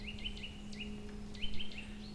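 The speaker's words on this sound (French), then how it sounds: "deuxième, la sittelle torchepeau." A Eurasian nuthatch sings a fast series of clear, rising whistled notes, repeated in short bursts, with a steady low hum in the background.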